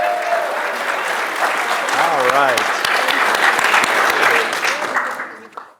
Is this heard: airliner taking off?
no